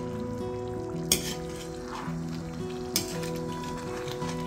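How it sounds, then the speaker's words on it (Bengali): Spice paste for kosha chicken fries in oil, a soft bubbling sizzle beneath a steady hum, broken twice by sharp scraping clacks as a spatula stirs along the pan's sides. "মশলাটা বেশ ভালোই ভাজা হচ্ছে। আমরা সাইড দিয়ে দিয়ে আস্তে আস্তে করে নাড়াবো এটাকে।"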